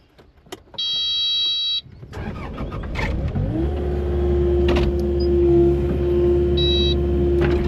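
A Kubota KX080 excavator fitted with a wrist bucket gives a couple of electronic beeps, then its engine revs up into a loud, steady diesel drone with clanks of moving metal, close by and without speech.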